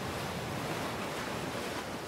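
Sea waves wash over a pebble ridge reaching into the water off Changdao island, heard as a continuous, even roar of surf without distinct individual breaks or any voices.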